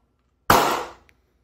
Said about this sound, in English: So this is the test fire with the suppressor on.